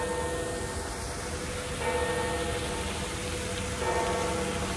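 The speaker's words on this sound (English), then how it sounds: "Church bells in the Vatican." Distant church bells in the Vatican toll faintly a couple of times beneath a steady, heavy hiss like rain or wind.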